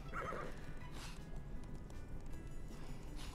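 Horse in The Sims 4 game neighing briefly near the start while hooves clip-clop steadily underneath, fairly quiet throughout.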